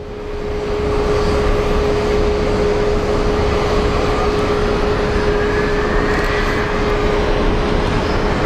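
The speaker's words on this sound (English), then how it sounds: "And the A319 to Burbank is finally making its way" An Airbus A319 airliner taxiing at Phoenix Sky Harbor airport makes a loud, steady engine roar with a constant tonal whine on top. It rises within the first second and holds evenly throughout, with no voices.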